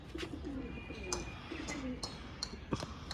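Pigeons of an old Kalsila line coo in low, repeated rolling calls, with a few sharper chirps and wing or foot noises nearby, heard close with no talk.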